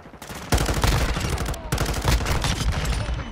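Rapid automatic gunfire from a Call of Duty multiplayer match, loud, close bursts of repeated shots in two long volleys separated by a brief gap, with faint voice chatter underneath.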